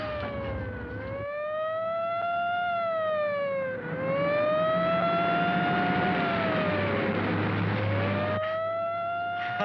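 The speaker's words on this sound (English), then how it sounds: "An ambulance." An ambulance siren wails in long rising and falling sweeps, loud and sustained over low traffic rumble, with a brief dip partway through before the wail resumes, and no talking.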